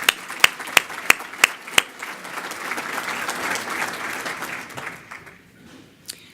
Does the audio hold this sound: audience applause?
yes